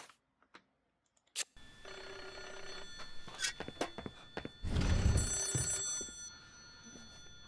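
A telephone rings repeatedly inside the Japanese horror game Hollow Cocoon, a bright electronic bell that rises out of quiet and grows louder midway, with soft thumps and ambient game noise around it.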